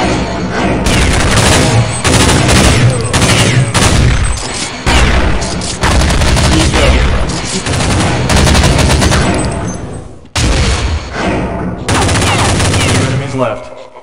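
Loud, near gunfire in Counter Strike 1.6, with sustained automatic bursts and heavy shots in quick succession and a few short gaps, with game sounds layered throughout.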